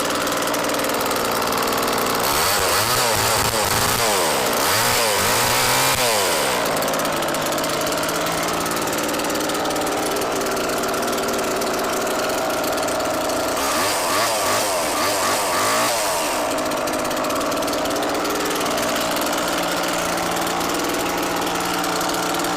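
A replica Evil Dead chainsaw engine runs steadily for a long stretch, a loud buzzing two-stroke drone that revs up in rising-and-falling bursts twice before settling back to idle.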